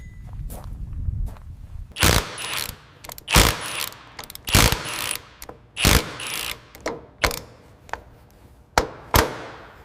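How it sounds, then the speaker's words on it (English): Ratchet cranking down bumper bolts on a safari jeep, a run of sharp clicking bursts in uneven groups of pulls, close and fairly loud with brief pauses between strokes. "Torquing the bumper bolts down."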